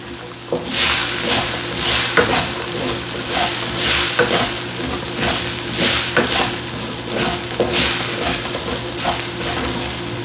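Beef stir-frying with green onion and sliced carrots in a hot pan for beef and broccoli, a steady loud sizzle broken by regular scraping stirs about every second, close and without talk.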